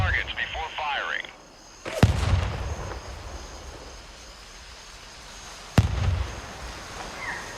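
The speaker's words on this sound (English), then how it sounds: "None of my mortars killed him either." Mortar fire in the military shooter game Gray Zone Warfare: two heavy booming blasts a few seconds apart, each followed by a rumbling tail, with a voice speaking briefly before the first.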